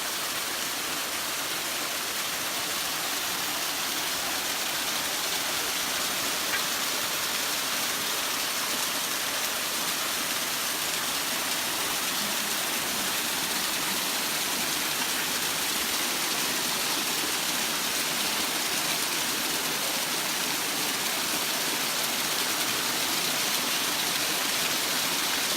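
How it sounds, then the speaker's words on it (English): A large waterfall at Bonita Falls roars as a steady, dense wash of falling water, loud and unbroken throughout, with no voices. "this waterfall's so big I can't even get it in one frame"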